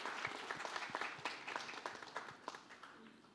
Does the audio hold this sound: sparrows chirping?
no